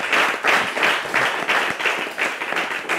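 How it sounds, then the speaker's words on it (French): Audience applause at a French-language talk show, a steady dense wash of clapping that lasts the whole stretch with gentle swells and no voices over it. "Mais ça mérite des applaudissements."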